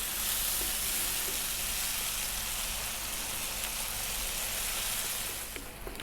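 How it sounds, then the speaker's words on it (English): Tomatoes fry in a pan with a loud, steady sizzle and crackle close up, continuous and alone until it eases slightly at the very end. "Just really need to cook the tomatoes out."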